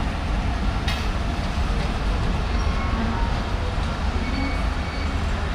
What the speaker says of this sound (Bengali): একটা ট্রেন চলে আসছে, কিন্তু এটা আসছে ঢাকা থেকে